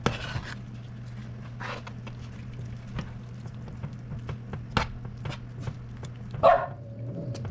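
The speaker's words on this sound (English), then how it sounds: "Molly, no one wants to hear you barking right now, bud." A dog barks in a home kitchen while fudge is being made: a few brief, fairly faint barks, with one louder bark near the end, against a steady low hum and light clatter.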